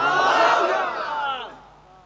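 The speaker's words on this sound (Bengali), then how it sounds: "জোরে কর নারায়ে তাকবীর।" A large crowd at a religious sermon gathering in Amtali market, Barguna, roars a chanted Nara-e-Takbir response in unison, loud and sustained, then fading out.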